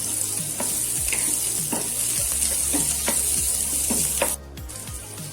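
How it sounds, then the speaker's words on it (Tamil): Sliced big onion and green chillies sautéing in a pan for a plain kurma, with a steady close sizzle and repeated scrapes and knocks of a stirring spoon against the pan. "ஒரு சின்ன சைஸ்ல பெரிய வெங்காயம் நீல வாக்கில் கட் பண்ணி வச்சிருக்கேன், இதை போட்டு வதக்கிக்கலாம்"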